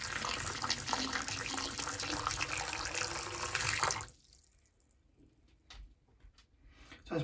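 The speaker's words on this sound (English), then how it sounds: "So 5 minutes have passed and we're going to put some hot water down." Hot water pours steadily and loudly down a clogged drain for about four seconds, then stops, leaving faint trickling and small drips.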